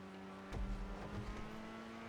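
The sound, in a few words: Grotti Itali RSX car braking in a video game, GTA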